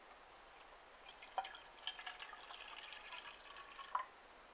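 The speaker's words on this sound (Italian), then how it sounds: "qui metto circa un 300 cc d'acqua" About 300 cc of water poured into a Quechua camping mess tin, a faint, thin trickle with small drips and a couple of brief metallic taps, heard close by in a quiet setting.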